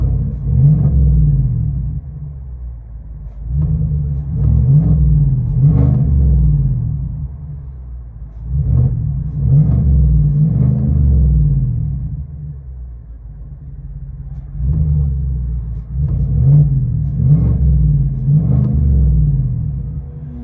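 Straight-piped 2023 GMC Yukon AT4 with a 5.3-liter V8, revved again and again in loud, deep bursts that rise and fall back to a burbling idle, close by with no talking.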